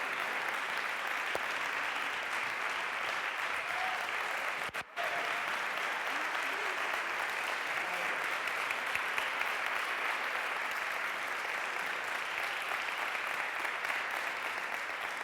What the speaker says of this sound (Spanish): quiero dar un aplauso también a Marisol Aznar y David Angulo, que han estado aquí acompañándonos.